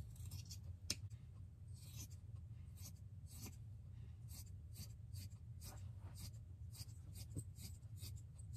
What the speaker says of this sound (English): I'm just drawing a line just to get a nice straight edge